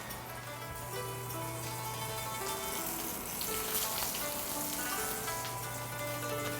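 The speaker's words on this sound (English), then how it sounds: "And we put that right into the oil." Bread-coated shrimp toast fries in hot oil, a quiet, even hiss of bubbling fat that holds steady throughout, with faint tonal background sound behind it.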